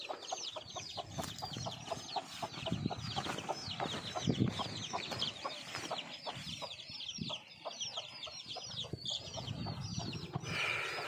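Chickens in a small poultry cage cluck continuously and busily, many overlapping calls up close, with occasional wing flaps and louder squawks, no talking.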